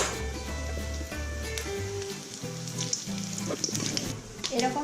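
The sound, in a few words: bay leaf, dried chilli and cumin sizzling in hot oil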